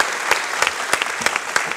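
A television studio audience claps in a short, sparse burst of sharp, distinct hand claps at an uneven rhythm, close and fairly loud.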